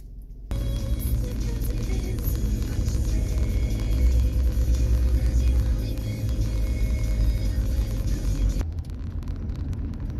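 A van drives through a small downtown in Yorkville, Illinois, heard from inside as a steady low road rumble and engine drone that runs for several seconds, then cuts off abruptly.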